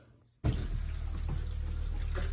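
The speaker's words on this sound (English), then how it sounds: "I'm going to pull this 2nd gallon through now by just using the pump." RV water pump switching on and drawing antifreeze through the travel trailer's plumbing, starting abruptly after brief quiet, then a steady close rush of flowing liquid with a low hum underneath.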